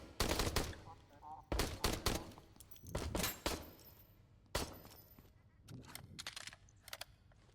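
Gunfire sound cue for the blue mask faction in the indie shooter HOLE: several separate loud bursts of rapid shots with gaps between them, close at first and fading toward the end.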